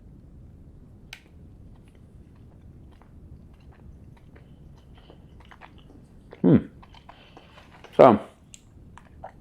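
Someone chews a bite of supermarket stollen close to the microphone, with two distinct crunchy bites standing out over quiet background, preceded by a brief spoken word.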